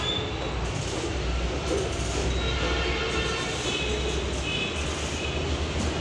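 Metro train running along the track, a steady broadband rumble with faint high squeals, continuous and close throughout, no talking.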